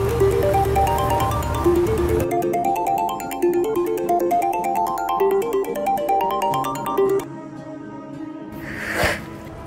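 A phone ringtone plays an incoming-call melody in repeating rising phrases, loud and steady for several seconds before cutting off, followed by a brief rustle.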